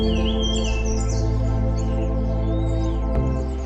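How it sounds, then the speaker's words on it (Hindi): Birds chirp and tweet faintly in a forest at Munsyari, Uttarakhand, over a loud, steady droning hum, with a brief sharp click near the end. "चिड़ियों का चहचहाना"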